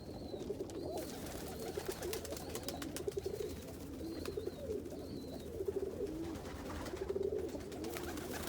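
Black reverse-wing pigeons coo softly in a loft, low rolling calls repeating at intervals over a quiet background hiss, with no voices.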